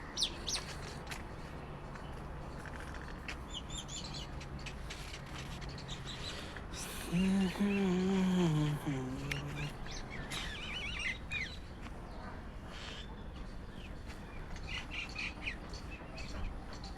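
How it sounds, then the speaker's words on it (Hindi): Birds call and chirp in a Dwarka park in Delhi, faint scattered tweets throughout with a louder squawking call in the middle, over quiet outdoor ambience. "ये कौन सा पंछी है कर रहे हैं?"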